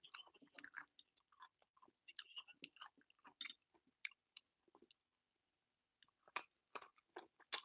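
Raw carrot sticks crunch in close, crisp bites and chewing, in irregular bursts separated by short quiet gaps.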